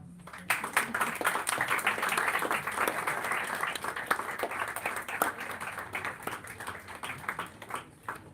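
Applause at the book release of "Natural Wonders of Goa" by Rajendra Kerkar: a crowd claps steadily and densely for about eight seconds, with individual claps standing out near the end.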